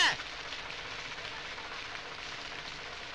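Steady rain hisses evenly throughout, a continuous wash of falling water with no voices.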